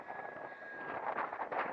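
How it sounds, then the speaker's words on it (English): At night, wind gusts buffet the microphone during the maiden flight of a Flex Innovations RV-8 G2 RC airplane, producing a faint, rough rushing hiss with a thin steady tone beneath. "And the wind's picking up"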